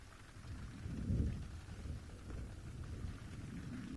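Steady rain falls on a safari reserve in Sabi Sands, South Africa, with a low rumble of thunder swelling about a second in and then fading under the continuous patter.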